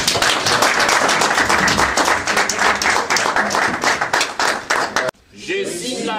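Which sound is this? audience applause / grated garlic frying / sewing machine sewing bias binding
audience applause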